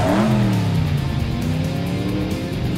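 A cartoon race car engine revs hard, a loud, close roar that rises in pitch and then holds a strained whine.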